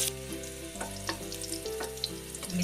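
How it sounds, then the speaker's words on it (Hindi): Green chilies sizzle steadily in hot ghee with cumin for a vrat-style potato dish, giving a continuous frying hiss with a few sharper crackles and pops. There is no talk over it. "जीरा हमारा हल्का गुलाबी हो गया है, इसके अंदर हम हरी मिर्च डालेंगे"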